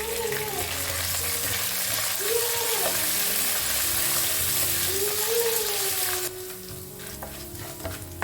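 Chopped garlic, ginger and curry leaves frying in hot oil for a restaurant-style potato bhaji curry, a loud steady sizzle that drops in level partway through, with faint stirring scrapes.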